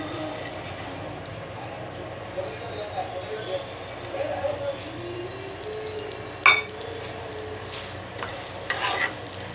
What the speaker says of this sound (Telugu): మంచిగా గోల్డెన్ బ్రౌన్ కలర్ ఫ్రై చేయాలి సేమియాని